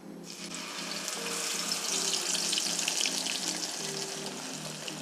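Blended spice paste for sambal tempeh hitting hot oil in a wok, a loud, continuous crackling sizzle that swells slightly and stays steady, close up with no talk.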